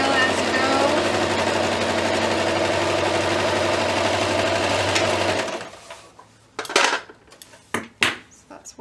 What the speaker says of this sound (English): I'm going to stitch this at about 1/4 of an inch.